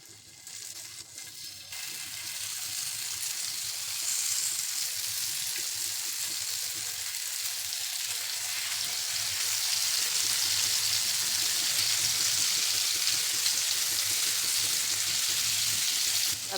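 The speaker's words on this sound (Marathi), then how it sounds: "आता ही कारली 3-4 मिनिट अशीच फ्राय होऊ द्यायची, नंतरच पलटून घ्यायची." Masala-stuffed bitter gourds frying on a flat griddle, a steady close sizzle that swells slightly and holds evenly throughout with no voices.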